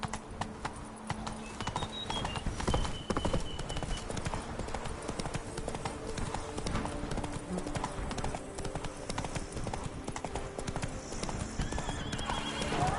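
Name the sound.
horse Roach galloping in The Witcher video game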